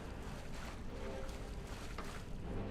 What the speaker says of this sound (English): The waterfall sound effects work so good.